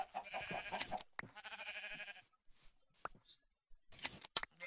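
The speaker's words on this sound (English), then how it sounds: "everybody drop a sapling while I shear these sheep" Minecraft sheep bleating during shearing, several wavering bleats mixed with crisp snipping clicks, fairly close with quiet gaps between.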